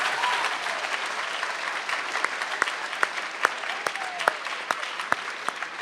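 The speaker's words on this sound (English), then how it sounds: "let's give our guests one more round of applause" An event audience applauds its guests, a steady wash of many hands clapping at moderate distance, with a few sharper individual claps standing out.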